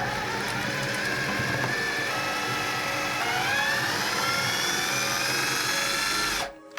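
Kitchen blender whizzing sumac, ground cumin and thyme into a paste, a steady loud motor whir with rising pitch as the mixture breaks down, cutting off abruptly at the end.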